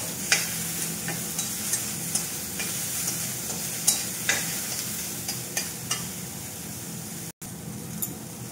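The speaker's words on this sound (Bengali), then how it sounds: "কাঁচা লঙ্কার পেস্ট দিয়ে এটাকে দুই চার মিনিট আমি নেড়ে চেড়ে দেবো" Water lily stems sizzle steadily in a pan with salt, turmeric and green chili paste, while a spatula stirs them with regular light scraping ticks over the constant hiss.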